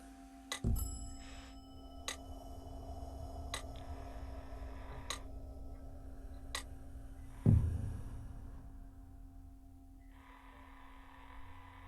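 Two resonant strikes of ayote bells ring out and fade slowly, with faint ticking taps between them in a quiet room.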